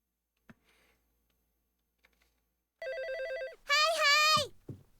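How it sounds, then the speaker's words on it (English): A phone ringtone from the anime Card Captor Sakura rings out in two bursts of bright, warbling electronic tones, the second louder and higher, after near silence with a few faint clicks. "phone ringtone."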